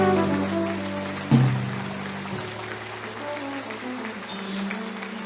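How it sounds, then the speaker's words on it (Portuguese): A church congregation applauds during a service, and the sustained clapping runs beneath held musical tones that fill the sanctuary from start to finish. "Igreja Manaim, aplauda Jesus."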